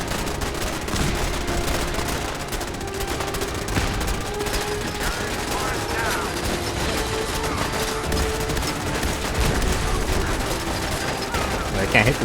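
An automated turret in Fallout 4 opens up on the player, a dense, unbroken rattle of rapid gunfire and impacts that stays loud for the whole stretch within a noisy battle.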